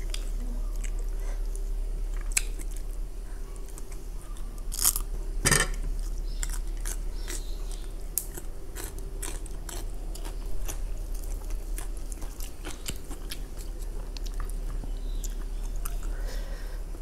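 Close chewing and crunching while eating a Thai meal of straw mushroom dip, fried mackerel, boiled egg and fresh vegetables, with irregular sharp bites over a steady low hum.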